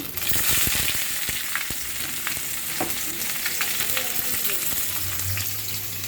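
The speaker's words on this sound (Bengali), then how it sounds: "এখানে শুকনো মরিচটা তেলের মধ্যে ভেজে নিচ্ছি।" Dried chili, garlic and onion frying in hot oil for Malabar spinach, a loud, steady close sizzle with scattered crackles and stirring scrapes, no voices.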